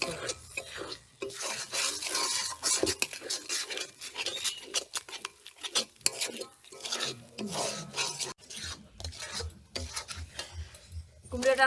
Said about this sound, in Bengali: আতর চালের গুঁড়োটা দিয়ে দেবো আতর চালটা গুঁড়ো করে রেখেছিলাম দিয়ে এখন এটা কষিয়ে নেবো